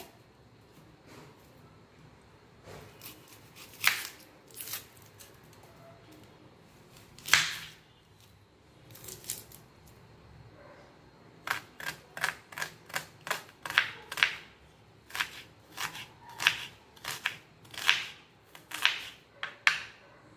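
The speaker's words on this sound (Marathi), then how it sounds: "एक छोटासा कांदा कट करून घेऊया" Sharp knife taps on a cutting board while chopping an onion, sparse at first, then a quick run of rhythmic chops, close and clear.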